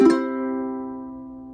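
A single plucked note rings out and lingers, slowly fading away on its own, close and clear with nothing else around it.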